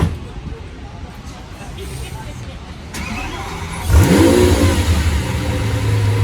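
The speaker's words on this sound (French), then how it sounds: "Ça y est, le voiturier va la démarrer, donc je vais me mettre derrière. On va entendre le V12." A Lamborghini Aventador SVJ supercar's V12 engine starts with a sharp rising whine and settles into a loud, close idle rev in a busy Monaco street, with crowd chatter in the background.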